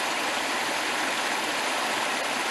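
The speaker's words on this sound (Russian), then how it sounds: "Речка. Речка опять." A river stream in Hedden Park, New Jersey flows steadily in a broad, continuous rush of water, close and even throughout with no voices.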